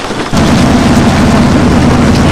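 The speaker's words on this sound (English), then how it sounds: "complaining about the rain coming on our bimini. This is a very minor rainsquall." A minor rain squall patters on a catamaran's bimini. The loud, dense hiss of drops begins abruptly after a brief quieter moment and then holds steady throughout.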